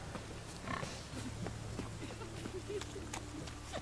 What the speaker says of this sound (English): Piggies.